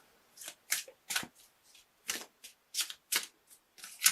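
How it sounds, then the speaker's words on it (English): Shuffling of an Archangel Michael oracle card deck during a tarot reading: a run of crisp, papery riffles and flutters in short bursts, close and fairly quiet, with no talk. "I'm going to pull an Archangel Michael card for you for a little bit more information."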